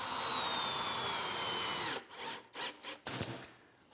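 A power drill drives screws into the wooden frame of a poker table, first a loud continuous whirring run, then several short, choppy bursts as the screw seats, close and with no talk.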